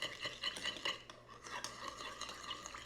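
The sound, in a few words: stirring vegan mayo to thin it out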